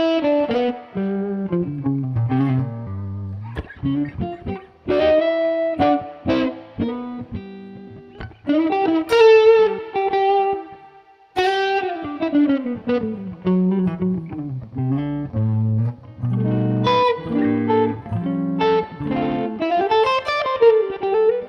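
Clean electric guitar on the neck pickup, likely a Gibson or Epiphone ES-335, playing melodic phrases and chords, bright and warm, with short pauses between runs, no voices.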